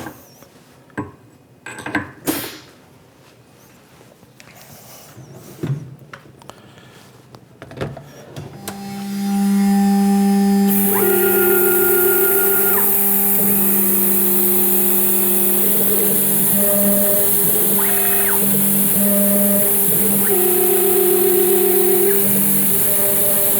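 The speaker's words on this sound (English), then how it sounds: "an 1/8 inch end mill to bore out these holes" Scattered knocks and clatter at first, then a loud, steady high-pitched machine whine with shifting tones as a 1/8-inch end mill bores holes through sheet metal, continuing to the end.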